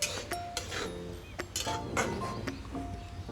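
Dry moong dal with chopped coriander being stirred in a pan, giving scattered metallic scrapes and clinks of a spoon against the pan, close but soft, with no talking.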